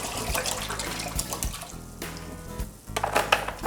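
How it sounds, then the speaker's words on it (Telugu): Bottled water poured into a cooking pot while making mango semiya pulihora, a close, loud splashing gush with uneven bursts and a short lull midway. "మీరు బాటిల్ వాటర్ పోసేసారా?"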